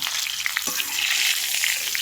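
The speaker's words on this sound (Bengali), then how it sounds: "ফুলকপিগুলো লাল লাল করে ভাজা হয়ে গেছে" Cauliflower pieces fry to a reddish-brown in hot oil in a pan, giving a bright continuous sizzle broken by light scraping taps of stirring.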